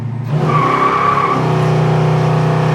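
Loud, sustained tire squeal as a 1965 Plymouth Satellite's wheels break loose, a steady high screech over the engine roar lasting several seconds.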